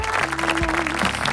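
An audience applauding a contestant at a TV singing competition grand finale, a short dense burst of clapping with a faint sustained tone underneath.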